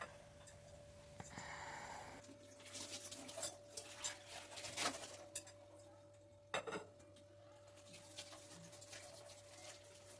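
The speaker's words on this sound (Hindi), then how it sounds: "ये बर्तन पड़े हैं नाश्ते के, यही धो लेती हूँ जब तक खाना बनता है।" Breakfast dishes, pots and utensils being washed in a home kitchen, with scattered clinks and clatters of steel and cutlery at close range. Water and faint background hum run underneath, with no talking.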